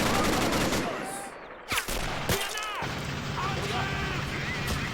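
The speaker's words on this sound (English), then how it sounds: "He's got a machine gun." Machine gun fire in the WWII strategy game Men of War: Assault Squad, set in the 1941 German advance into the Soviet Union, with sharp gunfire bursts and mechanical clatter over busy battle noise while someone talks.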